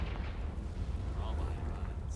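A Confringo explosive spell blast in Hogwarts Legacy, a sustained rumbling roar with steady, moderately loud energy and a brighter burst near the end.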